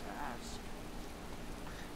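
Light rain in the Skyrim game world, a soft continuous hiss of falling drops mixed with low ambient rumble and a few faint tonal sounds, steady across the moment.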